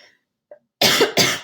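A lecturer coughs twice in quick succession, close and loud, after a brief faint throat noise, with no talk during the coughs.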